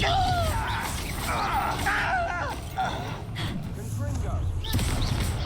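The Confringo fire spell in Hogwarts Legacy goes off in repeated booming blasts amid combat clatter, enemy grunts and a voice.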